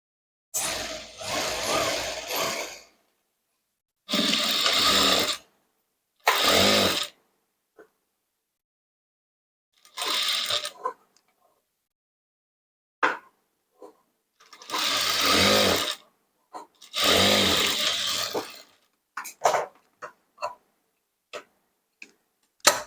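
A sewing machine stitches the fitting seams of a princess cut blouse in several separate runs, each a whirring burst of a second or two, broken by quiet pauses and a few short, light clicks near the end.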